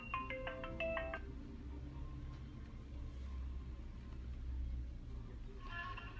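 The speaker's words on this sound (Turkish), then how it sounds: "Dur, Gilbert arıyor" A phone rings with an incoming call, a short burst of bright repeated ringtone notes at the start over a steady low rumble, then a brief return of the tone at the end.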